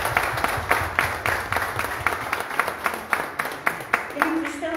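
Congregation applause in a church service, many hands clapping in a quick, even rhythm that holds loudly through the moment, with a voice briefly heard near the end.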